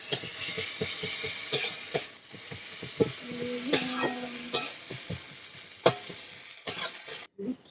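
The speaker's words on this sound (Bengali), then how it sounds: "এবার রসুন বাটা দিয়ে দেবো।" Garlic paste fries with browned onions in a pan, giving a soft sizzle under repeated scraping and stirring strokes, with a short hum midway and the clatter of utensils.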